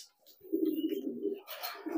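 Young pigeons coo in short, soft, low bursts, close by with a faint chirp between calls.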